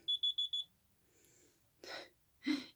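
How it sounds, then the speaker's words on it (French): Alarm set as a 10 o'clock reminder, four quick high electronic beeps in a row, followed by quiet and then two soft breathy sounds nearby. "j'ai des alarmes pour tout"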